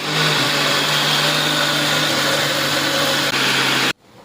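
A kitchen mixer grinder whirs steadily at full power for about four seconds blending papaya juice with sugar and cardamom, a loud continuous motor drone, then cuts off abruptly.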